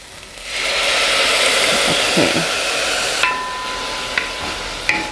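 Pear juice poured into a hot dry pot of browned meat for gochujang sauce bursts into a loud, steady rushing sizzle that holds for a few seconds, with a few utensil clinks near the end.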